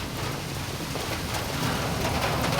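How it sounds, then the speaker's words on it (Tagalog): Heavy rain pours in a dense, steady roar during a storm on a fishing outing, close and loud with no voices. "Lakas ang ulan."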